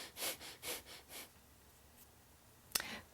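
Rapid breath of fire breathing exercise: five sharp, rhythmic exhales in quick succession, close and alone, followed by quiet and a single short sniff near the end.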